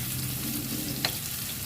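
Onions sautéing lightly in a pan for a chicken bistek topping give a steady low sizzle with a single brief clink of a utensil partway through, close and even throughout.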